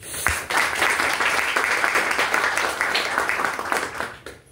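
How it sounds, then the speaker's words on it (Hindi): Audience at a business event in Kanpur clapping heartily for a first-time anchor, a loud dense burst of applause that holds steady and then tapers off near the end. "तो एक बार ताली दिल से बजाइए।"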